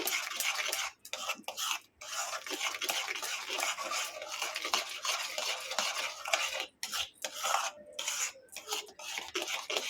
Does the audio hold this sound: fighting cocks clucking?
no